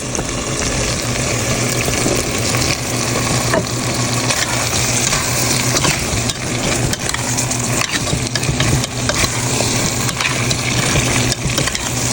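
Potatoes go into a pan of spiced cow kidney curry, frying hard with a loud, continuous sizzle and scraping stirs against the pan, steady and close throughout with no speech.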